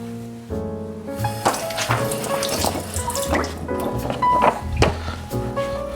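Running water splashes close by, a tap flowing steadily with drips and small clatters as a sheet of rice paper is wetted on both sides, over a background of soft music.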